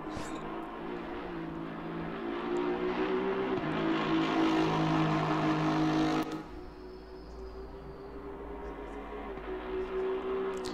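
Aston Martin Vantage V8 race car from Assetto Corsa Competizione, its engine roaring hard under load for several seconds, then dropping off with a sharp shift before building again, with no voices over it.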